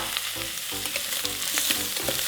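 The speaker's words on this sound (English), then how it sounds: "We're gonna saute these for just a couple minutes." Onion, garlic and ginger sauteing in an Instant Pot, a steady close sizzle broken by rhythmic stirring scrapes about every half second, with no talking.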